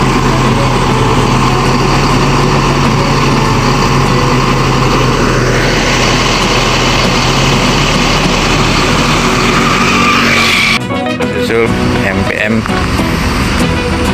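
Buses set off from outside a mosque, their engines running loud and close in a steady rumble, with a rising engine tone midway and a sharp shift near the end as a vehicle passes.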